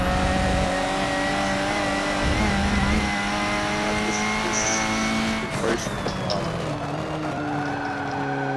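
Race car engine droning steadily through a lap of Mugello in a racing video game, sustained and loud throughout, with brief tire squeal and a gear-change burst partway through.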